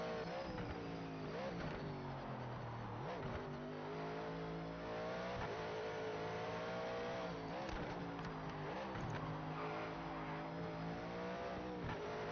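A race car in the Project Motor Racing video game drives on a track, its engine note sweeping up and down continuously through gear changes with a dense, loud tone and occasional tire noise.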